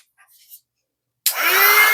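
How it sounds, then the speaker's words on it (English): A heat gun aimed at a resin bottle label snaps on after a moment of near silence, a loud, close, steady blowing whine with a rising motor tone. "I take my heat gun"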